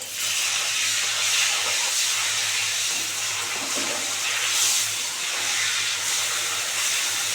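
Pieces of tilapia fish frying in hot oil, a steady dense hiss and crackle that runs without a break and swells slightly now and then, with no voices.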